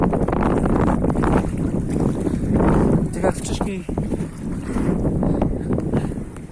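Strong wind roars and buffets the microphone throughout, with a person speaking briefly beneath the rumble.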